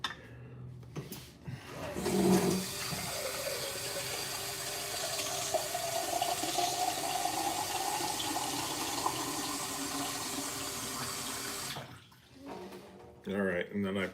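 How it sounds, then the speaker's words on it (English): Water runs steadily from a tap into a 20-ounce stainless steel mug for about ten seconds, a continuous filling rush with a rising tone, then stops. "So I take this and I fill this up."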